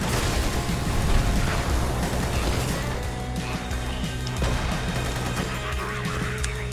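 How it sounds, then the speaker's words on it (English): Mortar explosions and battle effects from the co-op game Magicka roar in a dense, continuous wash of booms and bursts, loud throughout with no clear gaps. "Oh, I went right into that mortar."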